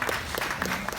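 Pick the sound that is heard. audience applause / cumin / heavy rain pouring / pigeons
audience applause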